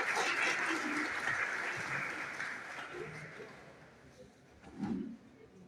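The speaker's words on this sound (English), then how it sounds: "A big round of applause for him, please." Audience applause for a speaker at a Faculty of Pharmaceutical Sciences seminar, a broad, fairly distant clapping that fades out gradually, with a few voices murmuring underneath.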